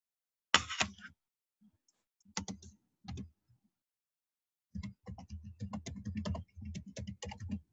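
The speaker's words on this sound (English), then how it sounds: "I'm just typing in the chat what apps you guys need to have." Keys clatter on a computer keyboard in short bursts of rapid clicking, with gaps in between, as someone types a message into a chat during an online orientation session.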